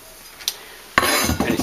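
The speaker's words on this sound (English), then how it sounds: "We also have a pot stand." A metal pot stand is handled and fitted onto a Primus stove, a light clink followed by a sharper burst of metallic clattering and rattling, close and brief.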